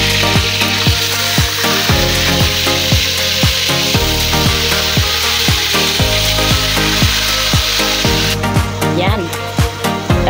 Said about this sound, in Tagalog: ito guys, ipiprito ko muna siya